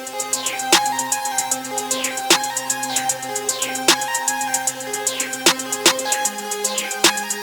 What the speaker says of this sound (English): Then we get this accent hi-hat pattern right here,